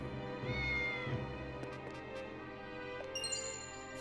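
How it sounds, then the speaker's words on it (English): A cat meows in the video game Triangle Strategy, a couple of short meows near the start over soft, steady game music with faint chimes later, no voices. "There's a cat again here."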